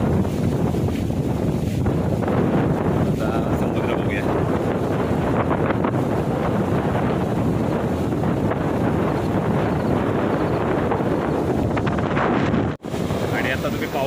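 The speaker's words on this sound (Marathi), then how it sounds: "सोसाट्याचा वारा सुटलेला आहे आणि वादळाचं जे लक्षण आहे ना" Strong cyclone wind on the Konkan coast of Maharashtra roars steadily into the microphone as constant loud buffeting rumble for the whole stretch, with sea surf mixed underneath and a brief dropout near the end.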